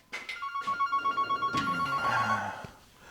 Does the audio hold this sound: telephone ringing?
yes